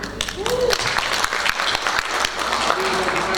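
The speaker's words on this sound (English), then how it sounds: "I should give a big round of applause to all of you." A conference ballroom audience claps steadily throughout, dense and close, with a voice briefly audible beneath the applause.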